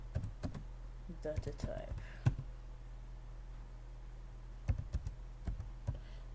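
Code typed on a computer keyboard: scattered clusters of light key taps and clicks over a steady hum, with a voice speaking briefly partway through.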